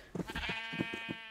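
A Minecraft sheep gives one quiet, wavering bleat lasting about a second, heard alone with nothing else going on.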